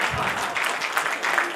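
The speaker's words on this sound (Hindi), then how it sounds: "एक बार जोरदार तालियां आपके लिए।" Applause from an audience at a Hindi poetry gathering, a steady dense wash of clapping lasting throughout, fairly close and even in loudness with small surges.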